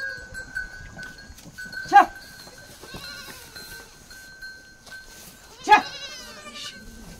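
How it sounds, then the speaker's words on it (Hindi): Young goats kept in a woven enclosure in a Himalayan village let out two distinct bleats a few seconds apart, fairly close against a quiet background. "इसके अंदर ये बकरी के बच्चों को रखा जाता है ताकि वो भाग ना जाए"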